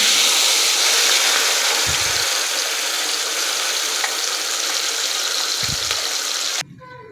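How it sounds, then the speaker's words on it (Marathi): Gravy for matar paneer sizzles loudly in a pan with sautéed cumin and cinnamon, a dense continuous frying hiss with a couple of low stirring scrapes, cutting off abruptly near the end. "आता ही ग्रेव्ही आहे ती चांगली परतून घ्यायची आहे"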